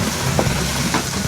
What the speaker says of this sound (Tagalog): Igisa na natin yung sibuyas at bawang.